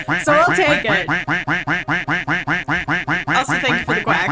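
Rapid duck quacks sound as Twitch stream alerts, a loud, rhythmic string of about twenty quacks in a row with more layered quacking at the start and end.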